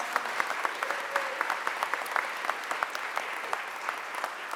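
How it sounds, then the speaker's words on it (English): Applause from a crowd at a mayor's press conference on a school board discussion, a thin, moderate patter of individual claps with distinct sharp hits, heard at a steady level without voices. "Can you give them all a huge round of applause?"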